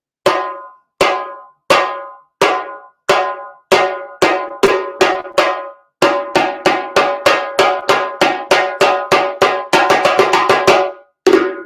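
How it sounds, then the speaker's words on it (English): Sharp, ringing hand-drum slaps repeat loud and close, spaced evenly at first, then quickening into a rapid run before one final strike. "the last sound is a slap sound,"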